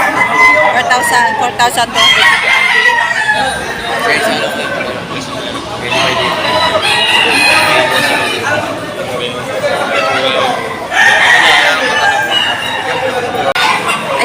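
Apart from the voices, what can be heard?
chickens and roosters at a poultry market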